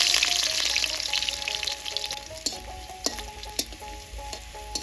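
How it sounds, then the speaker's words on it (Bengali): Garlic hits hot oil for thankuni shukto, a bright hiss that gradually settles into softer sizzling, punctuated by several sharp clinks of a utensil against the pan and faint tonal hums. "গরম হয়ে গেছে, রসুনটা দিয়ে দিব।"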